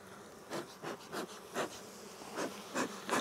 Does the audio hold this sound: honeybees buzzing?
yes